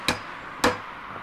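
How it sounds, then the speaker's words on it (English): A hammer strikes on a construction job, two sharp, separate blows about half a second apart, moderately close and alone. "And then we'll come over to here and hammer away."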